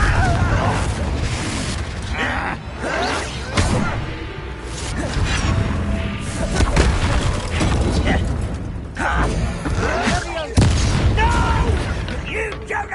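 The Confringo fire-blast spell exploding in the Hogwarts Legacy video game, loud booming bursts and whooshes amid continuous combat clatter, with mechanical rattles and impacts layered densely throughout.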